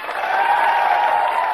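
Studio audience applause from a comedy sketch show, a steady dense wash of clapping held at even loudness throughout, with no talk over it.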